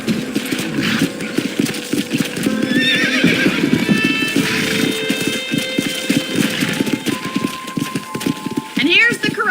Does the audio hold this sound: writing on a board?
no